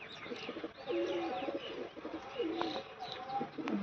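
Pigeons coo repeatedly nearby in soft, throaty, warbling calls, with a few higher chirps in the background.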